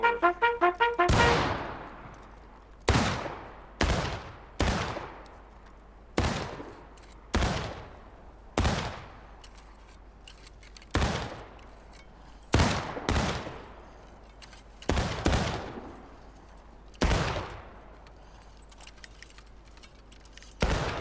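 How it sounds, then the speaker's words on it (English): Musket shots from a volunteer drill in the Civil War game War of Rights, fired independently as about fourteen sharp, loud cracks at uneven intervals, each with a short rolling tail, with no talking. "All right, we're gonna shoot at target number 4. Independent fire."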